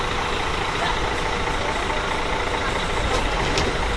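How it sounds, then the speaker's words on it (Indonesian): A Scania-chassis intercity bus idles at a mountain-town bus terminal, its steady engine rumble running near and continuous with dense ambient noise, brief higher clatters toward the end, and no clear talk. "ini bus yang kedua dari Medan yang sampai di Terminal Paya Ilang Takengon. Bis Sempatistar dengan sasis Scania"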